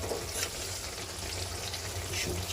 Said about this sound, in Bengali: এখন আমি সিম আর আলু দিয়ে কষিয়ে নেব।